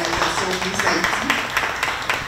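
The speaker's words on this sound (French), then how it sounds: "Maintenant, nous applaudissons Sabine Désir" A live audience at a Miss Universe Haiti talk show event claps briskly in a dense, close burst of applause with voices mixed in.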